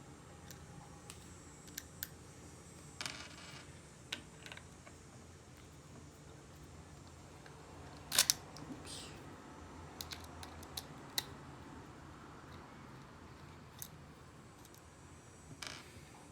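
Oster Fast Feed hair clippers are unscrewed with a screwdriver, producing faint scattered ticks and small metallic clicks and one sharper clatter midway, quiet and close with no talking.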